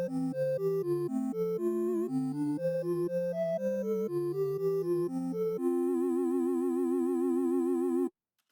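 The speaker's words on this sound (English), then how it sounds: "So starting us off, we have the menu theme" A short video game menu theme plays alone: a bright synth melody of quick stepping notes over a simple bass line, then a sustained wavering chord that stops abruptly.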